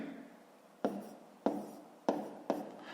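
A pen scratches numbers by hand on paper during a long multiplication, soft, close and steady, with four sharper taps as new strokes begin.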